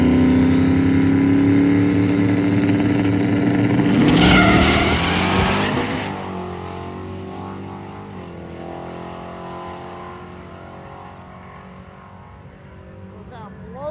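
Drag racing car at a drag-and-drive event launching hard, a loud roaring engine with tire squeal and spin for several seconds, then the noise fading as it moves off down the strip.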